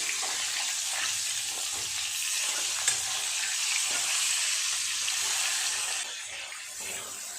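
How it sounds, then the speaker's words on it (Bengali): Pieces of catla fish fry in hot oil, sizzling and crackling steadily throughout, a loud continuous frying hiss that eases slightly near the end; no voices. "উল্টে দিয়ে এই পাশটা ভালো করে ভেজে নেব"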